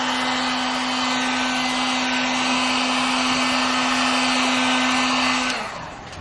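A heat gun blows steadily onto glossy metallic vinyl wrap on a Jeep WJ, a loud, even whooshing hum with a constant whine that holds for about five seconds before fading off.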